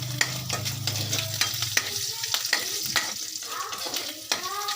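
Onion and garlic sautéing in pork fat rendered from fatty pork trimmings, a steady close sizzle with repeated sharp scrapes and clacks of a utensil stirring the pan, no talking.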